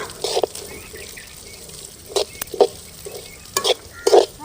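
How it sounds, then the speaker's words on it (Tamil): Moong dal, cleaned and still damp, fries in hot ghee for a sweet halwa, a low steady sizzle punctuated by several distinct spatula stirs and scrapes, close up and free of talk. "சுத்தம் பண்ணி வச்ச பாசி பருப்பு கொட்டிக்கலாம். நல்ல நெய்யிலேயே பொரித்து எடுத்துக்கலாம்."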